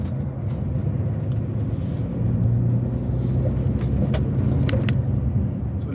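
A car descending dangerous, rough terrain gives off a steady, dense engine rumble with rattles and knocks over it, continuous and close, with no one talking.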